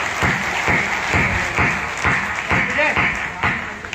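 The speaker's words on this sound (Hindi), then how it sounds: "सदन पूरा आगे से पीछे तक तालियां बजाए" Loud, sustained applause from a large audience at a Hindi poetry recital, a dense wash of clapping with rhythmic surges throughout, with voices mixed in.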